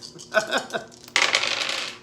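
Three dice for a Jaws board game clatter across a surface, first a few light taps, then a brighter, longer rattle as they tumble and settle, close and clear.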